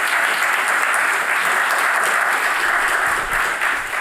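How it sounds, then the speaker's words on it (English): A lecture audience gives warm applause to welcome the speaker, with loud, dense, continuous clapping filling all four seconds without a break. "Please give her a warm applause."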